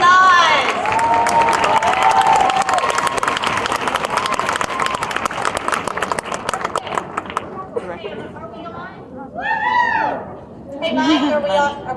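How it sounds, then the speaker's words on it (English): Conference audience claps and cheers loudly for groups coming on stage, a dense burst of applause that tapers off midway, followed by a voice talking and whooping alone. "Give them some applause."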